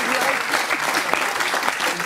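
A studio audience at a French television talk show claps in a full, dense burst that holds steady through the short stretch.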